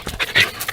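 A puppy outdoors beside a muddy tilled garden pants rapidly and close by, with brief high whimpers breaking through the quick breaths.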